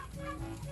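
Chickens on a small Filipino poultry-raising homestead give soft, brief clucking calls, faint and close together in a short burst.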